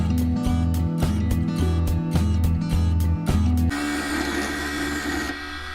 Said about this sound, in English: I just take a saw and hold it where I want it to cut off